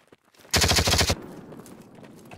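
Machine gun fire in a Starship Troopers mod of the shooter game Squad: one loud sustained burst of rapid automatic shots lasting about half a second, then a ringing, noisy tail with faint movement sounds behind.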